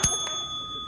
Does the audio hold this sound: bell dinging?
yes